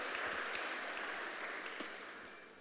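Congregation applause during a church service, a steady dense wash of clapping that stays fairly even and slowly tapers over a couple of seconds.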